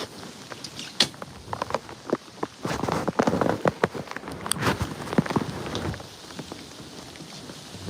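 Heavy rain pours down outdoors, with irregular louder splashes and drips over a constant wash and a brief low rumble, fairly close and with no voices.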